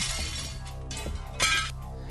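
Glass shattering as a sound effect on a radio show, a loud crash with scattering, tinkling fragments that lasts about two seconds, with no speech over it.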